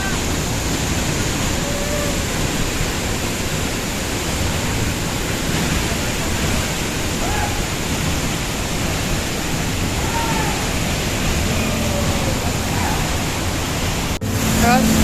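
A waterfall near Maldevta, Dehradun, makes a steady, loud, close rushing roar that stays unbroken throughout, with only faint other sounds buried in the noise.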